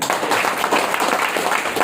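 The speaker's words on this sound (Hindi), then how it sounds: "राइट, तालियां जबरदस्त।" An audience at a motivational talk gives a burst of loud, dense applause, many hands clapping together continuously throughout.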